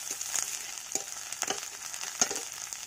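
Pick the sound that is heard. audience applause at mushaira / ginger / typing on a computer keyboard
ginger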